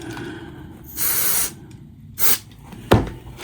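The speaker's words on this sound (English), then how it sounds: "I'm going to spray up inside these switches too." Several short bursts of contact cleaner sprayed up inside the switches of a Heathkit IT-12, each a loud hissing spurt about half a second long, separated by brief pauses and closing with a quick final puff.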